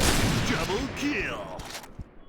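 Rapid gunfire from a sniper-and-rifle shooter video game, bursts of shots emptying a magazine at one target, loud and close, with a voice talking over it.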